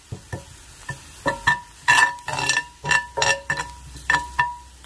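Onions fry in a pan with turmeric and chili powder while a spoon stirs them, giving a rhythmic series of close metallic scrapes and clinks over a soft sizzle.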